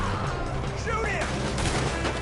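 Gunfire in a Red Dead Redemption 2 shootout, a dense continuous clatter of shots running under shouting voices throughout.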